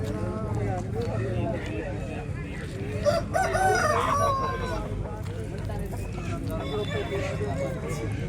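A rooster crows amid the din of a busy hen market in Kothagudem, its call rising over a constant crowd murmur, with nearby clucking and people chatting throughout.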